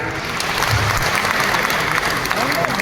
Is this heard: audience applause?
yes